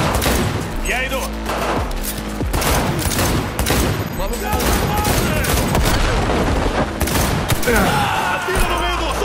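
Rapid video game gunfire, dense bursts of shots and automatic fire in continuous succession, loud and close, with someone talking over the action.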